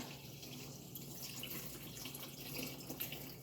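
Steady running distilled water pouring into a container, a continuous soft splashing stream at moderate distance with no voices.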